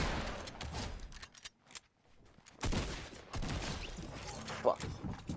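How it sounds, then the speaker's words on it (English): Gunfire in Fortnite Chapter 2 crackles through a chaotic match: scattered sharp shots and bursts around sniper fire, with dense noisy stretches and a brief lull between. "Where are we getting sniped at from?"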